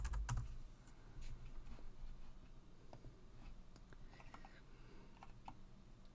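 Commands are typed on a computer keyboard during a Linux software install, a faint, quick run of light key clicks with small pauses, alone in a quiet room.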